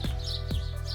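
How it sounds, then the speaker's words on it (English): Birds chirping outdoors, with short bright tweets repeating about every half second over a steady low hum. "Hear the birds outside?"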